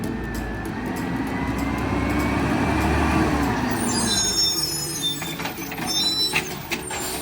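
A garbage truck rolling around a corner, its heavy diesel engine rumbling as it nears, then a hiss of air brakes and rattling clanks as it slows and stops.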